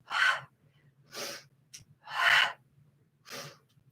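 Loud, rhythmic breaths taken during a Pilates mat exercise: four strong breathy exhales or inhales spaced about a second apart, close to the microphone, over a faint low hum.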